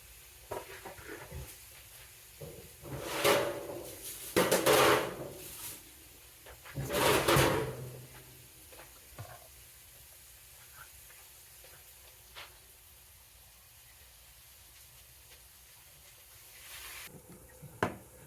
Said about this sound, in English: Time for that steak to go in.